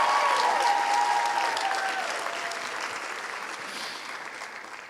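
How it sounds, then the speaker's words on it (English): Loud applause from a crowd at a student awards ceremony, dense and sustained from the start, slowly fading over five seconds. "it says give him a round of applause"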